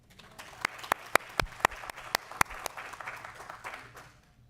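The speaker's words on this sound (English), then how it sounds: "Can we please give them a round of applause?" Brief applause at a county planning commission special meeting: a handful of people clap in a sparse, uneven patter that swells and fades within a few seconds.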